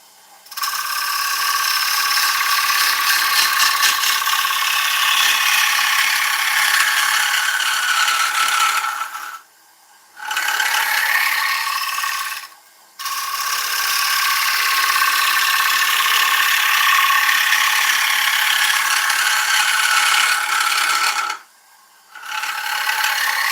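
Wood lathe spinning an oak bowl blank during hollowing, a loud continuous whirring drone with a tool cutting, stopping briefly three times before starting again, no talk.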